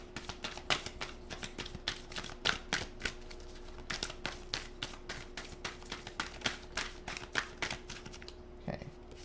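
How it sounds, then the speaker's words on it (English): Tarot cards being shuffled by hand, a dense run of quick crisp riffling clicks and flicks in an irregular rhythm, close and moderately loud, with a faint steady hum beneath. "I'm just going to shuffle."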